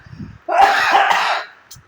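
A single harsh cough from a person indoors, close and loud, lasting about a second after a short breathy lead-in.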